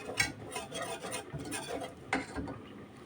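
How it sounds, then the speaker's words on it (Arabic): Flour stirred with ghee in a pan for a sauce: soft, continuous scraping and stirring with small utensil knocks against the pan, close and quiet, with no talk. "هنشوح كده الدقيق مع السمنة لحد ما الدقيق ياخد كده لون صغير"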